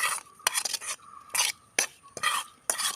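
Masala being stirred into sardines in a pan with green peppercorns, a series of close scraping, rasping strokes of a spoon against the pan in uneven bursts, with no talking.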